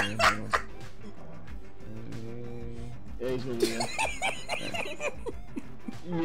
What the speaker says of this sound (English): My dog was fucking getting loud for no reason.